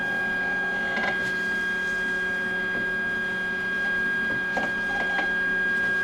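A label printer runs a test print with a steady electrical hum and tonal whine, broken by a few soft clicks and brief mechanical ticks. No one speaks.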